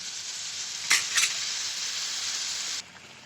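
Magur catfish curry fries and sizzles in a pan with an even hiss, broken by two quick stirring scrapes, before the frying sound cuts down sharply near the end.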